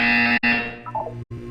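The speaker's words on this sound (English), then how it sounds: "You will hear a buzzer." A loud electronic buzzer from the Portal 2 video game sounds as a steady harmonic tone that is briefly cut out once and then falls away before ending abruptly.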